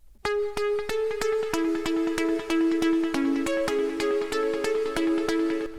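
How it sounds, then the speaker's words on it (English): A bright trance pluck synth lead plays a steady stream of short, evenly spaced notes with ringing harmonics, moving through a simple melodic line on its own. "you got this trance pluck, which is also the lead that's playing in the drop"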